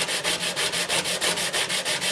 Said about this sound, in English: you would simply see me sanding and measuring